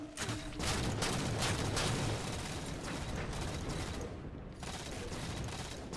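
Rapid bursts of gunfire in a Halo multiplayer match, dense and continuous with overlapping shots and clattering weapon mechanics, loud throughout with a brief dip near the end.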